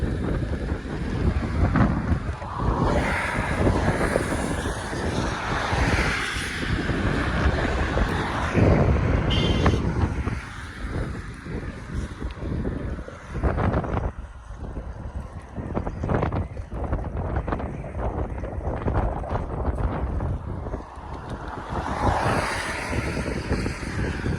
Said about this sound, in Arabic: هوا عالي ومطر بس شنو احنا ما يهمنا